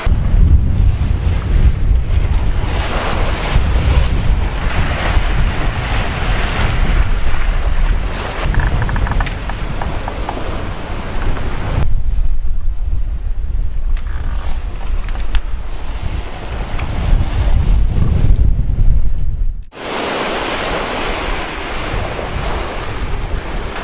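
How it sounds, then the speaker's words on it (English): Sailboat surfing down ocean waves in the Mona Passage, with a loud continuous rush of surf and water and heavy wind buffeting the microphone throughout, briefly dipping quieter before surging back. "we are just surfing down some waves"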